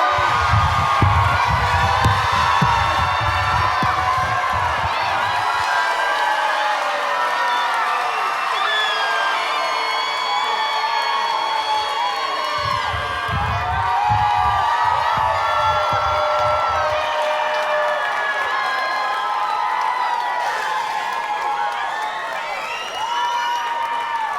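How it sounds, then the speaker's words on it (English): A 2023 graduation crowd for Lincoln West School of Science and Health screams and cheers loudly and without pause, with whoops and shouting voices forming a dense, sustained roar. "I need you to scream your baby's name that is about to graduate"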